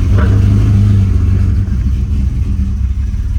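A BMW E46 drift car's engine runs loud and close with a rough, uneven, misfiring idle, a steady low rumble that dips briefly midway, with no talking.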